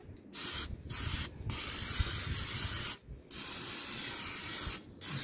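Pipe cleaner sprayed from an aerosol can onto the front brake of a Toyota Fortuner/Hilux D4D, several loud close hissing bursts separated by short pauses, alone without talk.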